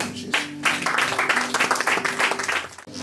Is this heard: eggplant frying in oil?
no